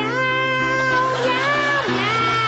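A man imitates a cat, drawing out a long, wavering meow that slides in pitch, close and clear, before a live comedy audience.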